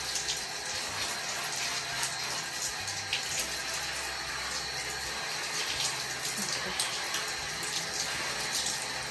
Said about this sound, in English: Now I'm gonna put some water.